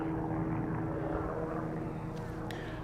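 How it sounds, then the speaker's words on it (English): A steady low droning of a helicopter engine hangs in the background throughout, fairly distant and even in level, in Tokyo. "Oh, helicopter."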